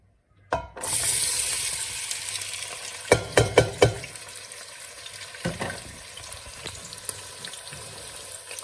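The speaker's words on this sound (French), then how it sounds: "Et laisser les oignons cuire un petit peu pendant quelques minutes." Onions frying in hot oil in a pot, a steady close sizzle that starts abruptly, joined by a few sharp clanks of a utensil and some splashy bursts.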